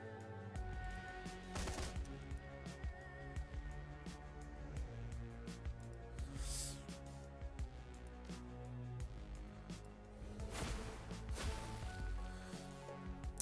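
Burst-fire gunfire in Shadowrun Hong Kong, repeated clusters of rapid crackling shots over several seconds among busy game effects, fairly faint overall.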